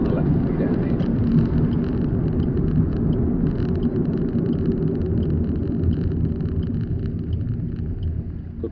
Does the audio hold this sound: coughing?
no